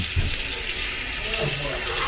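Running water pours from a tap through a strainer as freshly caught food is rinsed in a home kitchen, a steady close splashing gush lasting throughout with some background voices.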